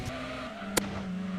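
In a racing video game, a touring car's tires squeal steadily as it understeers through a corner, the tonal screech sustained over a continuous engine drone.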